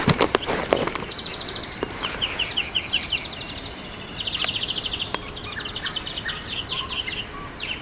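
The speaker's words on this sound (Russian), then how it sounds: "Птички разные всякие поют." Several birds chirp and trill outdoors, their songs overlapping against a steady hiss of ambient noise, with an occasional soft tap.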